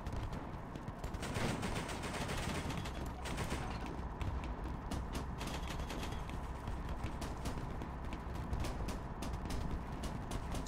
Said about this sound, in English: Sniped. I got sniped again.